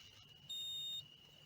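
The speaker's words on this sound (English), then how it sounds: "It starts to beep at you and tell you that it's not recording." A Master Tailgaters mirror dash cam gives a single short, faint, steady electronic tone of about half a second when recording stops, set against a quiet room.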